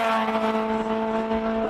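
A rotary-engined race car at a Cape Town classic hill climb, a loud, steady, buzzing high-revving engine note held close for under two seconds.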